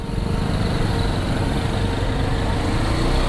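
A KTM Duke 200 motorcycle engine with a drilled, modified exhaust runs with a dense, continuous raspy drone that holds steady and loud throughout, with no talk over it.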